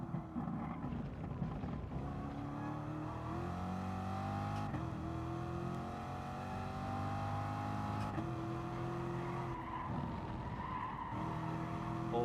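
Race car braking hard in Gran Turismo Sport, tires skidding and squealing over a steady engine drone with shifting revs, loud and continuous throughout.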